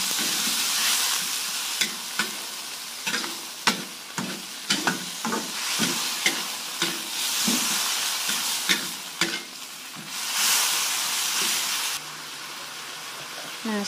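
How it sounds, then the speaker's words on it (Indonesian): Martabak filling with a splash of added water stir-fried in a pan until wilted, a close crackling sizzle broken by repeated sharp utensil scrapes and clanks against the pan, easing to a steadier hiss near the end. "Tambahkan sedikit air. Kita tumis sampai layu."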